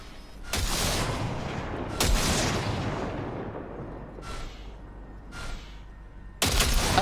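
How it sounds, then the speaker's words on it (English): Gunfire from a weapon in the video game Cyberpunk 2077, with several sharp shots spaced apart, including sustained bursts and single reports, each ringing out with a decaying tail. "Fire a short burst into it"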